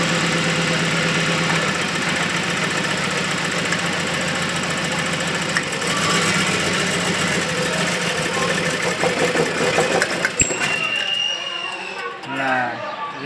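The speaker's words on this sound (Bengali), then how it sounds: "ইঞ্জিন থেকে একটা বাজে শব্দ আসতেছে" A car engine with a bad knocking fault runs up close with a steady, rough, rattling drone, then cuts off near the end. Voices are faintly present underneath.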